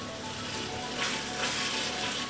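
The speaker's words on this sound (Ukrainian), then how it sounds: "Все це гарно перемішуємо і далі смажимо." Ground meat sizzles and crackles steadily in a hot pan, close up, with occasional scraping as it's stirred, cooking as filling for a meat quiche.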